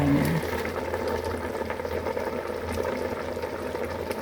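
Sinigang fish soup bubbling in a covered pot, a steady simmering hiss with soft bubbling, close and continuous, no talking.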